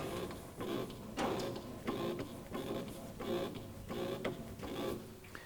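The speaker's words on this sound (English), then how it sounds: "We bring our gripper in above the drum and then use our handle here to lower the gripper down. Visually check we're engaged and then pump our handle" Hydraulic hand pump on a counterbalance drum lifter with weigh scale being worked to raise a drum off a pallet, a steady series of rhythmic mechanical strokes and clunks, about one per second, fairly faint with no talk.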